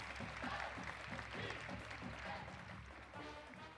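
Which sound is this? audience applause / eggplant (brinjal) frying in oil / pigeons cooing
audience applause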